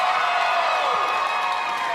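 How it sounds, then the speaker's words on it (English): An audience at the Dancing with the San Angelo Stars 2021 event cheers and claps as a dancer is introduced, a dense, loud crowd roar with whoops carrying steadily throughout. "Give her a big round of applause"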